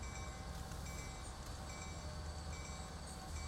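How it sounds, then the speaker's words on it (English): A train in Transport Fever 2 rolls into a station, a steady low rumble of wheels and carriages with faint high squeals and whines from the rails, continuous and fairly quiet, with no one talking. "Alright, the train has pulled in"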